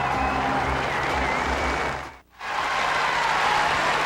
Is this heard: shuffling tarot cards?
no